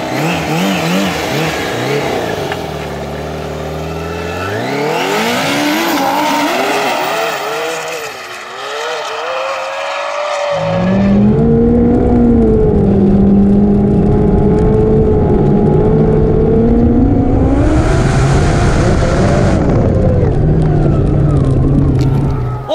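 A 280 HP Yamaha RX1 snowmobile engine revving hard in snow, loud and close, with rising and falling revs, a brief drop, then a sustained roaring pull at high revs.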